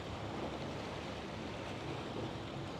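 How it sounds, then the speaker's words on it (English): Steady, low wash of water lapping by the ferry port at Agia Marina, Aegina, Greece, a continuous soft rushing with some wind noise and no voices. "I'm just listening to the water"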